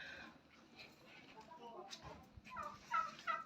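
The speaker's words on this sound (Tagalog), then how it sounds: "Ayun, may mga pabo po rito." Turkeys gobble at close range in Quezon Province, Philippines, with bursts of gobbling over a murmur of nearby voices and outdoor background noise.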